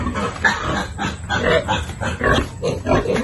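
A piglet on a provincial pig farm gives a string of close, loud grunts and snorts in irregular bursts over a steady barnyard background, with no talking.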